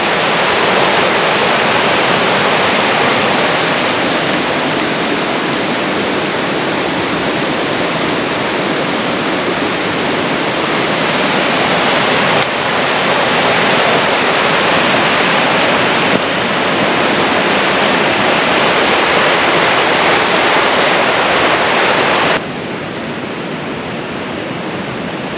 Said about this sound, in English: Here's where the creek gets a lot closer to the road.